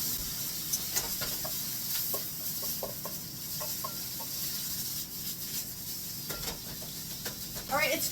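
Chorizo sears in a pan in its own fat with a steady sizzle and scattered crackling pops, close by under a quiet voice.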